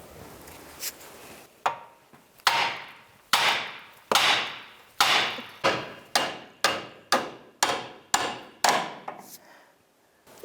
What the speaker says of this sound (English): I'm just going to hit that knuckle and it should pop it right out